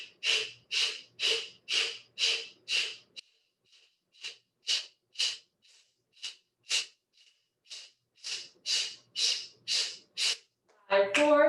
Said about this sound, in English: Kapalabhati breathing